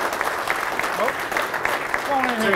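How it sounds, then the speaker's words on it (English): Crowd at a kayak bass fishing awards event applauding the 2019 Pro Tour champion, a steady patter of clapping beneath someone speaking briefly in the foreground. "everybody want to give a round of applause"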